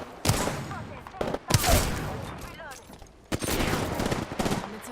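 Automatic gunfire in the Apex Legends video game comes in loud, close bursts of rapid shots separated by brief pauses.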